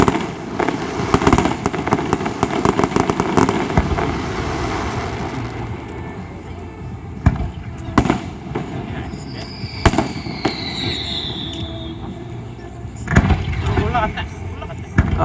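Canada Day Gatling gun fireworks pop in rapid bursts of close, loud cracks, with an aircraft-like whoosh sweeping through the middle, while spectators talk and exclaim over the explosions.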